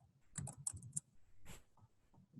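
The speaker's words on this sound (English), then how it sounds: "I'm just typing it down because Christina does not have access to sound right now" Quiet clicking of fingers on a computer keyboard: a quick cluster of keystrokes, then a few scattered taps, with no talking.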